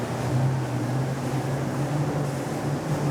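A Navan S30 deep-V sportsboat at about 30 knots, heading into the wind through choppy sea, gives a steady droning engine hum under a constant wash of rushing water and wind.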